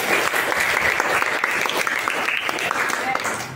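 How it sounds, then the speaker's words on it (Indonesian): Classroom applause from teachers and participants at an academic supervision coaching session, a steady dense clatter of many hands lasting the whole stretch at moderate loudness, with some voices mixed in. "Tepuk tangan ya."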